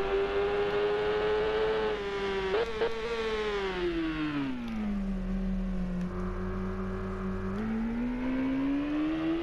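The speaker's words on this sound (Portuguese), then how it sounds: "curtindo mais um pouquinho aí o ronco do motor da Kawasaki ZX10" A Kawasaki ZX10 R motorcycle engine screams at high revs on a race track, its loud harmonic whine dipping and rising repeatedly as gears are forced down, continuous and close throughout.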